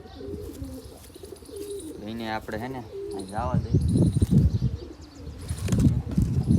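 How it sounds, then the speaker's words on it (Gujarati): Pigeons coo and murmur in a loft holding an older pigeon and a newly acquired pair, soft rolling calls close by, with someone talking over them throughout. "આ છે આપણું જૂનું કબૂતર."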